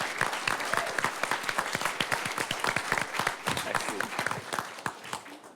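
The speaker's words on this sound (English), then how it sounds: "I think now we can give him some applause in appreciation." Applause rises from the audience at a UNAIDS report launch in Geneva. Individual claps are plainly distinct in a fairly close, steady run of vigorous clapping that continues evenly without speech.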